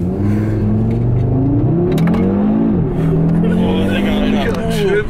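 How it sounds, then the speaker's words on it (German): A 400 hp Audi RS3 engine revs hard as the car accelerates, a loud, continuous engine note with rising and falling pitch under constant talk from people inside the car. "Und der Sound vom Auto ist brachial."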